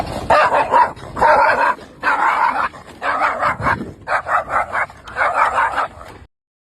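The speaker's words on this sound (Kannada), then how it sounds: "ರೈಡ್ ನಡುವೆ ನಾಯಿ" Dogs barking in the dark early morning along a road near Haveri during a bicycle ride, several bursts of loud, close yipping barks in quick succession, then sudden silence.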